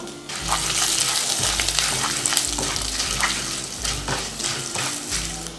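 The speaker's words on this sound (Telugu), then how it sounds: "హాఫ్ టీ స్పూన్ సన్నగా తరిగిన అల్లం ముక్కలు వేసుకుంటున్నాను" Finely chopped ginger frying in hot oil with mustard and cumin seeds for jowar upma, a loud continuous sizzle with spattering crackles and a low repeating hum underneath, no talking.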